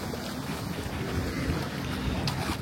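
A boat nears a jetty at Havelock Island's Elephant Beach, its steady low engine rumble and water wash running continuously under gusting wind noise, with no talk.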